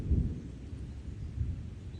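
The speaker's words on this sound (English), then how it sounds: "it is starting to thunder" Distant thunder rumbling on the Appalachian Trail, a low muffled roll that swells twice over soft wind noise, with no voices.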